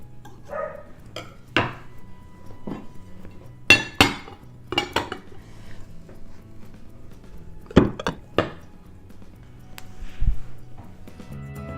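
A knife scraping around the sides of a baked cherry custard dish, heard as a run of sharp metallic clinks and scrapes against the dish, a few louder knocks spaced irregularly, with no talking.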